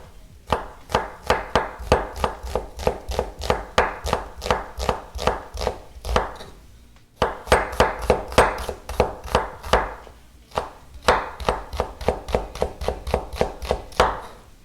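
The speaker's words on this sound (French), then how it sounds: "on va juste émincer un peu d'oignon" A knife finely slices onion on a cutting board with fast, steady, crisp taps, close and clear, in three long runs separated by brief pauses.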